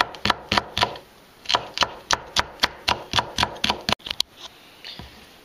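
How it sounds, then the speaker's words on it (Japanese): A knife chops a green bell pepper on a cutting board with about a dozen quick, evenly spaced, crisp strikes, close and clear with no talking. "はい、ピーマン切ります。"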